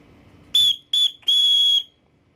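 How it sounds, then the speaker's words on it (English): A small emergency whistle bundled with an Atomic Bear paracord bracelet gives three loud, shrill blasts: two short ones and then a longer one, close up, with no talk. "This paracord bracelet does come bundled also with a little whistle, which is pretty loud for what it is."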